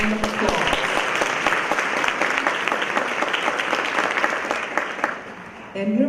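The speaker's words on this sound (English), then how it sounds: "Give yourselves a round of applause." Participants at a LETRS training kickoff session give a sustained round of applause, dense and close, which tapers off near the end as a voice starts up.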